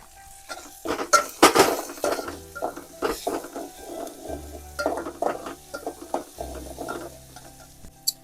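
Chopped onion sizzles in hot oil in a pan while making vaghareli rotli, a Gujarati dish of tempered leftover flatbread, with loud scraping stirs and clinks of a metal spoon against the pan in irregular bursts.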